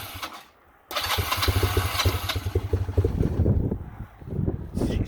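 A 1991–2001 Honda Nighthawk CB250 motorcycle, cold and with the choke in, cranks and catches after a brief quiet moment, then idles roughly with uneven revs, close up, with wind buffeting the microphone.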